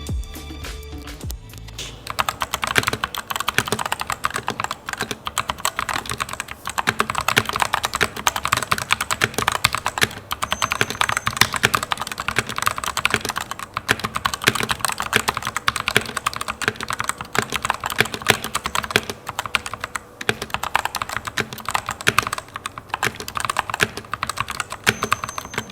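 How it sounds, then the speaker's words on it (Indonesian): Continuous fast typing on a compact Rexus Daiva mechanical keyboard with Outemu Brown switches, dense clacking keystrokes recorded up close, with no speech. "Ini kita akan taruh di sekitar keyboardnya untuk mendengar suara dari Outemu"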